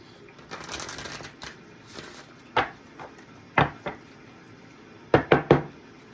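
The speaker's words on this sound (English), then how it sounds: "One more shuffle." Tarot cards riffle softly at first, followed by several sharp taps and slaps as the deck is squared and shuffled, close and clear.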